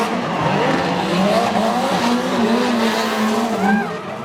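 A 2013 Scion FR-S pro drift race car, fully race-prepped, caged and lightened, screams with high engine revs and squealing tires, a loud continuous mix of wailing revs and skidding squeal close by.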